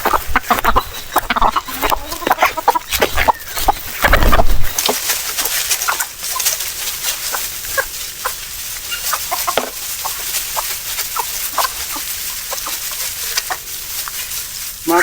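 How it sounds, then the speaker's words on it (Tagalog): Chickens on a farm, among bamboo, cluck and chatter continuously, close and fairly loud, with a denser burst of noise early on and scattered sharper calls throughout. "Meron pa rin mga pasaway na manok katulad dito oh."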